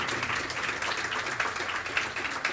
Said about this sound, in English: Yes, you can clap it.